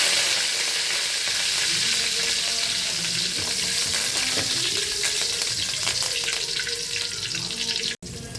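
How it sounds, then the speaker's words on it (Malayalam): Mustard seeds, cumin and curry leaves fry in hot oil, a loud continuous close sizzle with crackling pops throughout and a sudden brief dropout near the end. "നമുക്ക് ഇതേ എണ്ണയിലേക്ക് തന്നെ ഇച്ചിരി കടുക് ഇട്ട് കൊടുക്കാം"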